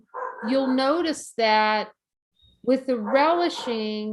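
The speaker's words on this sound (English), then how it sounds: "that's our dog barking out there." A dog barks outdoors in a few short, loud bursts, one clear bark sitting alone between stretches of nearby speech.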